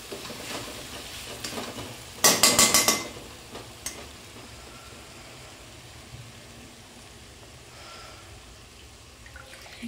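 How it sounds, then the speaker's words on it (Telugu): Okra curry gravy fries in oil over a medium flame, a quiet bubbling sizzle with a brief louder burst of stirring or pouring near the start, then a low steady simmer. "ఈ గ్రేవీని ఆయిల్ పైకి తేలే వరకు కొద్దిసేపు చిన్న మీడియం మంట మీద వేపుకోవాలి"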